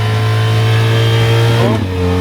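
BMW GS 1300 motorcycle engine held on light throttle through a bend in second gear, a loud, close, steady mid-pitched drone with a brief pitch wobble near the end before settling again.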